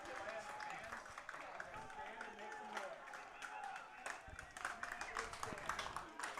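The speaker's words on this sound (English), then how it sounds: "The rhythmic clap from Healdsburg" Crowd noise fills a baseball stadium during a championship league game, with scattered clapping building into a loose rhythmic clap from the stands, moderately loud and steady under ongoing crowd chatter.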